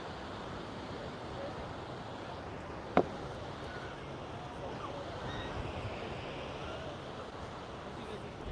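Ocean surf and wind wash steadily along a beach, a broad continuous roar with gusty microphone noise and one sharp click partway through.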